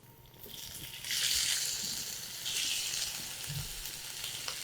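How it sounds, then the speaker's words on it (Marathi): Chopped onion goes into hot oil with sizzling garlic for a spicy drumstick masala; the frying hiss swells in two bursts and then settles into a softer, steady sizzle with a low thump. "लसणाचा हलका रंग बदलायला लागला की यामध्ये कांदा घालायचा"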